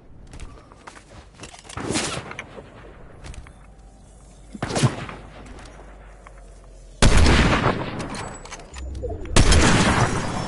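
Sniper shots in a Fortnite Zero Build match, several loud sharp cracks spaced a few seconds apart, each followed by a short ringing decay, with quieter game ambience between them.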